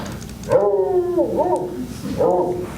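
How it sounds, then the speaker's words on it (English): A dog howls in a radio drama, two drawn-out, wavering howls with a whimpering edge, heard fairly close over a low background rumble. "There's a man with a dog."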